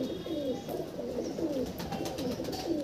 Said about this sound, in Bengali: এটা ম্যাট্রাস পায়রা।